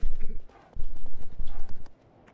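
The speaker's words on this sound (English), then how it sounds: "Horse." A horse gallops in the video game Shadow of the Colossus, with loud, close bursts of clip-clopping hooves in quick rhythm broken by short pauses, and a faint voice in the background.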